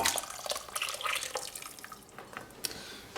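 Liquid pours and splashes steadily into a slow cooker, with faint dripping and sloshing close by, no voices.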